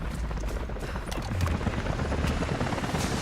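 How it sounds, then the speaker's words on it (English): Helicopters closing in within a video game, a dense steady rotor thrum rising slightly in loudness over a few seconds, with no voices. "Jacob, helicopters are headed your way."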